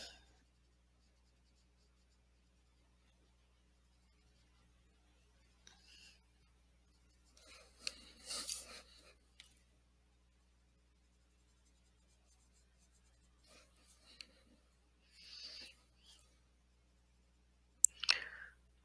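Colored pencil scratching on paper with a square-barreled pencil, quiet intermittent strokes in short bursts separated by long pauses.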